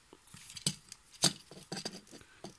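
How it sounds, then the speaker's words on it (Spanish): A few sharp plastic clicks and small knocks, close by, with one especially crisp snap in the middle as a Transformers Optimus Prime toy forearm is rotated and clicked into place, no talking. "metemos hasta que se escuche un clic"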